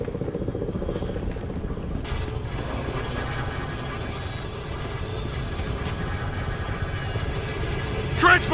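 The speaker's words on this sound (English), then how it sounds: "Transport chopper!" A transport helicopter in the video game Battlefield Hardline gives off a continuous low rotor rumble and mechanical drone, mixed with other game sounds and a sharp burst near the end.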